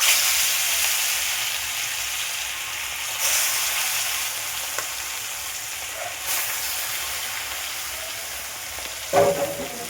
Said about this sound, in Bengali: তেলটা গরম হয়ে গেছে, মাছটা ছেড়ে দিচ্ছি।